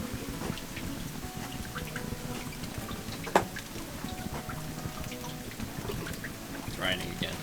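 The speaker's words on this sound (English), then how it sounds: "It's raining again." Steady rain pattering down during a river cruise on the Gordon River in Tasmania, a dense continuous hiss with occasional louder drops and a low rumble, voices murmuring faintly underneath.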